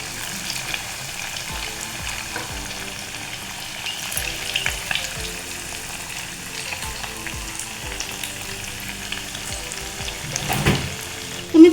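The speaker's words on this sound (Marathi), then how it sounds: "एक मिनिट कडक तेलामध्ये फ्राय करायचे आणि त्यानंतर गॅस मंद आचेवर करून घ्यायचे।" Potato cutlets fry in very hot oil, giving a steady close sizzle and crackle with occasional stirring bumps and a louder clatter at the very end, with no talking.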